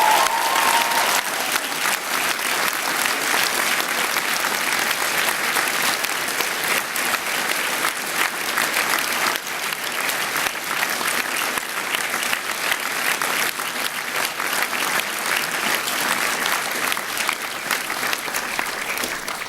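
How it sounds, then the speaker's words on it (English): A graduation ceremony audience applauds the families and friends in a large hall, with dense, steady clapping from many hands that stays loud and unbroken for about twenty seconds, and no voices over it. "I want the graduates and my colleagues to applaud the families and friends."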